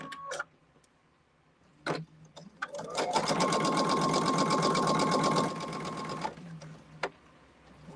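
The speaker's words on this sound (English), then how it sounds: "now I'm turning it because I want to sew on the other side." A sewing machine stitches quilt blocks in a steady, smooth whirring run of about three seconds, preceded by brief clicks and handling sounds, with the motor close and fairly loud.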